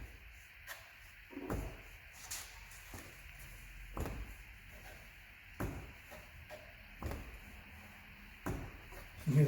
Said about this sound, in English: You hear that suction sound.